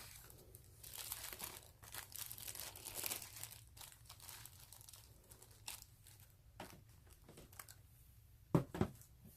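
A Broadway Limited Paragon 3 AC6000 CSX model locomotive is worked free of styrofoam packaging, with steady close crinkling, rubbing and squeaking of foam and plastic, plus a few sharper clicks and bumps near the end.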